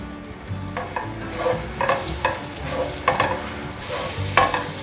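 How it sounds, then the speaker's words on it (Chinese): Carrots stir-fried in a little olive oil in a pot give a moderate sizzle with repeated scraping stirs and clinks in an uneven rhythm, close and alone. "锅内倒入少许的橄榄油，把红萝卜放下来炒"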